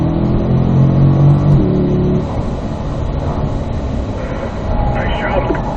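A Corvette on a driving-school track accelerates in fourth gear, its steady engine roar loud and close, with an instructor's voice talking over the first half.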